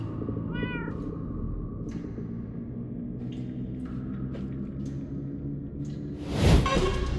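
Cats meow in Minecraft, a few short rising calls over a steady low background hum of the game world, followed by a louder burst near the end.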